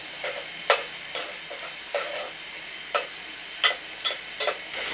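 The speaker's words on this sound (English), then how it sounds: "I have my fresh tomato and tomato paste mixed together. Alright. So I'm going to stir them together properly." A spoon stirring fresh tomato and tomato paste together in a pot, giving about ten sharp clicks and scrapes at irregular intervals over a faint sizzling background.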